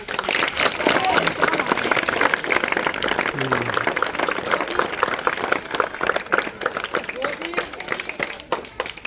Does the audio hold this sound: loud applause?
yes